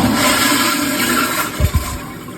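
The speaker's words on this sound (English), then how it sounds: "Secondly, you want to flush it again." A toilet flushes close by, loud rushing water filling the short span, with a couple of low thumps from the plumbing near the end.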